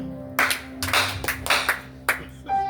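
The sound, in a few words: congregation clapping in acclamation of the Lord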